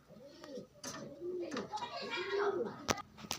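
Pigeons coo in soft, repeated rolling calls, close by, with a few sharp clicks and rustles in between.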